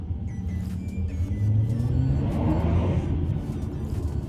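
An Audi A5 3.0 TDI V6 diesel with a straight-pipe exhaust gives a deep close rumble that swells briefly mid-clip as it revs, then settles back.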